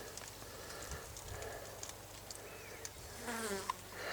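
Bees buzz in a steady, dense hum across an open field of flowering sunflowers, with occasional louder insects passing close by.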